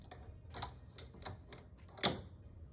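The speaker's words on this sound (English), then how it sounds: "I'm going to go ahead and add the hoop to my machine right now" An embroidery hoop is fitted onto a Ricoma Marquee 2001 embroidery machine with a series of faint, sharp plastic clicks and snaps, the last one louder, close up with no talking.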